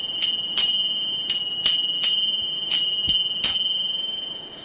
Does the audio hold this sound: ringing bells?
yes